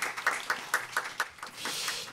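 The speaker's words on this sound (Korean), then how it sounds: "박수로 환영해 주시기 바랍니다" An audience at a climate and ecological law forum claps to welcome a speaker, a short run of separate, evenly spaced claps that blur into a softer patter.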